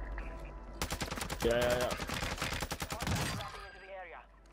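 Rapid automatic gunfire from a Warzone match, a dense burst of shots running for several seconds, close and loud, with a short spoken word from a player.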